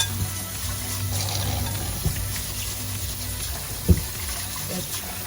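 Jasmine rice is washed in water for Jamaican rice and peas, with a steady rush of running and sloshing water close by and a few soft knocks against the bowl.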